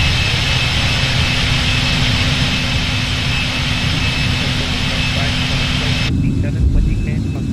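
Boeing 747 jet engines climbing after takeoff in Microsoft Flight Simulator 2020 make a loud, steady roar that holds throughout, then drops away abruptly just before the end.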